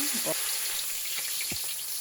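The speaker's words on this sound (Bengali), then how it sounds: "এখন মাছগুলো আমি ভেজে নিব কড়াইতে তেল দিয়ে নিয়েছি" Surma fish frying in hot oil in a wok, a steady close sizzle running through the whole stretch with a few brief clinks or movements over it, no talk.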